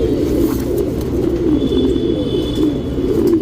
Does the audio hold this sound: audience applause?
no